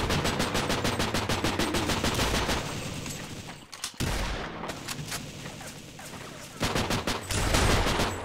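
Soldiers fire on the player in the video game They Hunger, with dense rapid automatic gunfire in long bursts, a brief break midway, then renewed shooting that grows loud again at the end.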